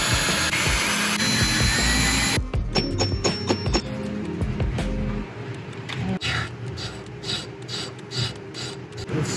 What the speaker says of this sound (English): So we're going to have to drill into the marble itself